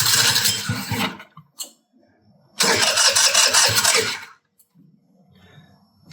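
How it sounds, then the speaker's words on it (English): A 49cc scooter engine, fuel leaking out the back, starts up after choke and starter: two loud bursts of revving, the second longer, with a brief gap and fade to near quiet. "All right, so I'm going to choke off the air here. Pull the clutch. Push the starter."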